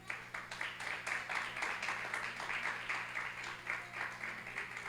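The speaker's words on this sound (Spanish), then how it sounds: "Dale un aplauso al Señor." Church congregation applauding together, a moderate, rhythmic patter of many hands clapping at a steady beat, heard from within the room.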